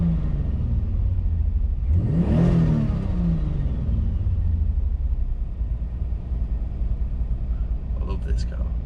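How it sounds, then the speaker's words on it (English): A Toyota Supra engine roars up in a single rising rev, then settles into a steady loud rumble, close by, with a brief higher whine near the end. "The noise is incredible of this car."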